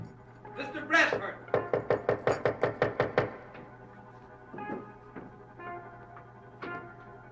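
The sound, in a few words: knocking on a door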